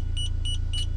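An ARB tyre pressure monitoring system gives three short electronic beeps in quick succession inside a vehicle, over a steady low engine rumble.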